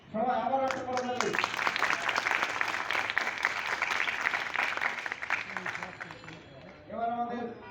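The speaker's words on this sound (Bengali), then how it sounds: "সবাই আবার একটা করতালি" Audience applause breaks out at a science meeting and quiz prize-giving, a dense burst of clapping lasting several seconds, with a voice speaking briefly before and after it.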